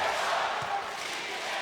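Steady crowd roar inside a basketball arena in Busan during a Korea v Jordan World Cup qualifier, a broad sustained wash of voices with a faint rhythmic chanting quality, fairly even in loudness throughout.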